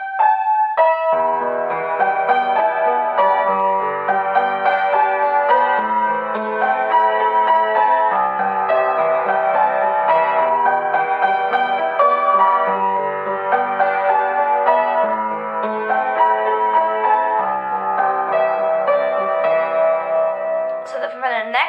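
Piano playing the chorus of a song with both hands, a steady stream of sustained chords and melody that fills the whole passage at an even, moderate loudness, with no talking.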